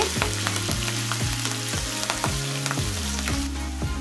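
Curry leaves, green chillies, ginger and cumin frying in hot oil give a steady close sizzle, with the pan stirred in a regular rhythm throughout.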